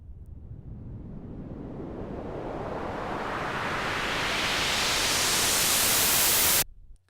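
A white-noise sweep synthesized in Ableton Live swells steadily louder and brighter for about six and a half seconds, then cuts off abruptly into near silence.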